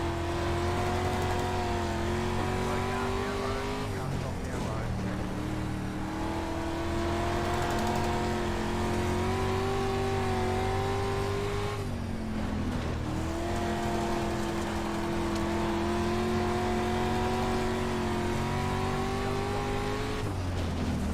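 A race car drones over a dirt track in a racing game, its engine a steady loud hum with rising and falling pitch as it shifts gears, under a constant rough rumble.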